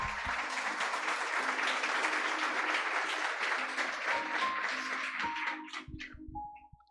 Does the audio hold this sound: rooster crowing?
no